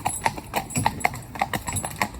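Hooves of a young Friesian filly clip-clop in a steady, evenly spaced walking rhythm, about eight sharp strikes, close and fairly loud over a low background rumble.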